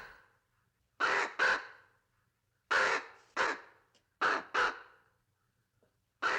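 A crow caws in three paired bursts, each harsh call loud and close, with short silent gaps between the pairs and a final call starting at the end.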